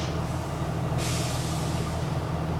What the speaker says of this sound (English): Oh, it's a garbage truck.